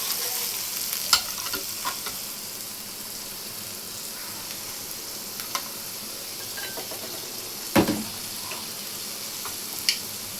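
Washed rice and lentils go into a pan with fried onions and are stirred, giving a soft continuous sizzle with occasional scrapes and clicks of the spoon against the pot, quiet and close.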